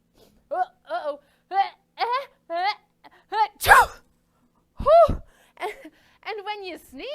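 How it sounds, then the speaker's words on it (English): A child's sneeze bursts out mid-sequence, one sharp loud explosive blast amid a string of high, voiced childlike vocal sounds and short breathy utterances in a preschool cooking class setting. "And when you sneeze, it kind of just goes all over the place."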